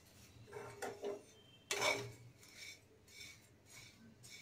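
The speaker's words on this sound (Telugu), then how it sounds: "సిమ్లో పెట్టుకొని ఇలా 3-4 నిమిషాల పాటు డ్రై రోస్ట్ చేసుకోండి" Flattened rice (poha) dry roasting in a pan for a simple snack mixture, stirred with a spoon that scrapes and clinks against the metal in a few soft bursts, one louder scrape midway, fairly quiet and close with no talking.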